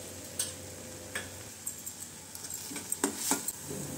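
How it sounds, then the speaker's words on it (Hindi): A spoon stirs a fried khoya and carrot mixture in a pan, with soft scraping, light clinks and a faint sizzle, quiet and close, with no one talking. "ऐड करके इसे अच्छे से मिक्स करना है और थोड़ा मिश्री का पाउडर भी ऐड करेंगे"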